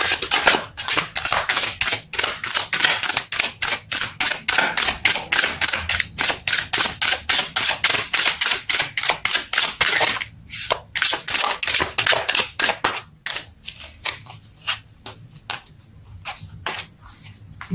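Tarot cards are pulled, shuffled and handled in quick, crisp flicks and snaps that repeat rapidly and close by for several seconds. The flicks thin into sparser shuffling and soft rustles near the end, with no talking.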